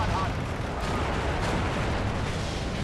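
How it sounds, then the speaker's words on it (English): MG42 machine gun fire in the WW2 strategy game Steel Division 2, during an urban assault: a loud, dense, unbroken wash of gunfire and battlefield explosions that fills the whole stretch. "I've got an MG42 firing over here"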